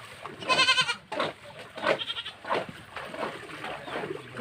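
A goat gives a loud, close, wavering bleat amid floodwater at a flooded village home, followed by scattered splashing and indistinct shouting voices.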